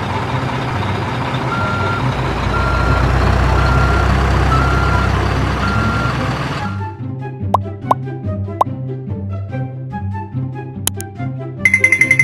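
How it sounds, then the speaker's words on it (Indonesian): An articulated dump truck at a mining site rumbles with a steady engine drone while evenly spaced reversing beeps repeat for about seven seconds, before the sound cuts abruptly to scattered plopping and clicking noises. "Articulated dump truck."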